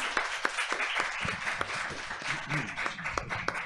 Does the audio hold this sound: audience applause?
yes